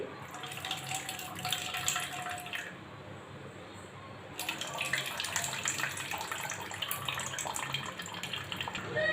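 Water left from making butter for ghee splashes and pours steadily into another pot, a continuous gushing stream that briefly eases then resumes louder.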